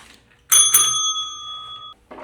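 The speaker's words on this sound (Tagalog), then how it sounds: "please ring the bell on the desk behind you" A metal desk bell at a hotel check-in counter is struck twice in quick succession, giving a loud, close, clear ring that sustains and slowly fades for well over a second.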